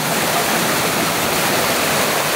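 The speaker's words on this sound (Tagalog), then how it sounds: "Dito nila pinadaan yung tubig." Water rushes through a drainage channel beside a school, a loud, dense, continuous roar of flowing water with no voices.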